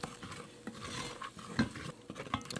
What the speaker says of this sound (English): we just stir the flour around, mix it in with the drippings, and cook it until it starts to brown a little bit